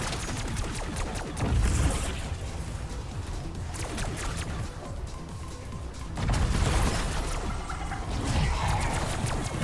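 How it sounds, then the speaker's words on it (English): Stryder .22 akimbo pistols firing in Black Ops 6 Zombies on The Tomb map, with rapid bursts of shots, dense clattering impacts and heavier swells around the second and sixth seconds, over continuous game noise. "So I'm just going to let the footage play for a little bit and you guys can see just how viable these Akimbo pistols are"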